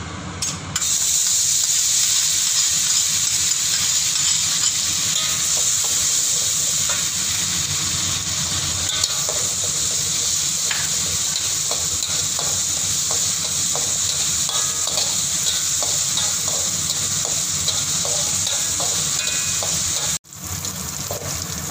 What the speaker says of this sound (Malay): Masukkan kisaran bawang putih dan halia ke dalam minyak yang kita goreng ikan bilis tadi ya